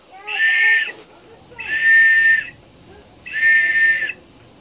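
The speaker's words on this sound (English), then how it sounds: "You get a whistle there." Three loud, sustained shrill whistle blasts, each about a second long, evenly spaced with short pauses between, close and clear.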